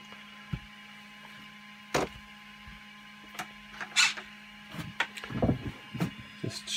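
A 3D printer making droid parts runs in short bursts of whirring and clicking motor moves separated by near-quiet pauses, with a steady low hum under it.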